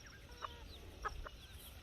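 Jamaican yard chickens give a few short, faint clucks at a distance, spaced apart over a quiet outdoor background.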